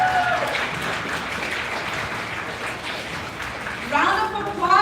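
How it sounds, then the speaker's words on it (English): Audience applause at a Black History event, a continuous wash of clapping with voices talking over it, swelling again toward the end. "Round of applause for Cara Martin."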